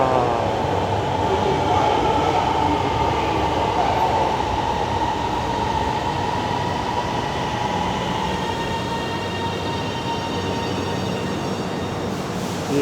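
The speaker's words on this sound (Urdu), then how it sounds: "وہ آ رہی ہے ٹرین، نظر آ رہی ہے آپ کو، اورنج ٹرین، پاکستان کی پہلی ٹرین اورنج ٹرین" Orange Line metro train arriving in Pakistan: a continuous loud rail rumble and hiss of the approaching train, with faint wheel whine and rattling steady throughout, no clear talk over it.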